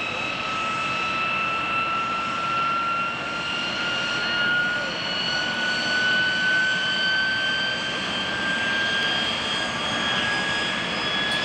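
A KC-135R Stratotanker jet roars overhead at an airshow with a loud, steady engine rush and high whining tones that slowly shift in pitch as it passes.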